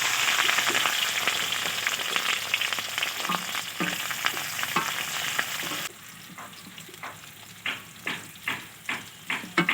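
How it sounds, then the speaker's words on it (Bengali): Capsicum lightly frying in a pan, a steady oily sizzle with repeated stirring scrapes; the sizzle drops quieter midway, leaving distinct rhythmic stirring strokes. "ক্যাপসিকামটা হালকা ভেজে তুলে নেব।"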